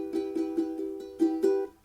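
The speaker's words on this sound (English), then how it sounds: "That's the strumming pattern" Guitar strums a simple rhythmic pattern for the intro of a song, a series of evenly spaced chord strokes with a couple of stronger accents, close and clear with no voice.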